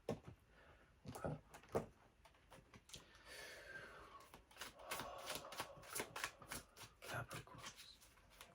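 Tarot cards being shuffled by hand, with soft irregular flicks and sliding rustles, close and quiet, a few sharper taps standing out.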